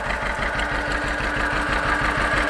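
A John Deere 530 tractor engine idles after an overhaul, a steady, evenly pulsing mid-pitched putter with a regular knock-like beat, close and continuous with no talk.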